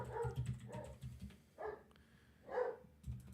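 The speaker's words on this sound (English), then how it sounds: "Sorry, my dog's going nuts." A dog barks at home in a few muffled, distant yips and woofs, scattered and faint, as if from another room.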